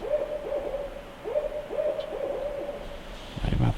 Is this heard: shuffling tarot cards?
no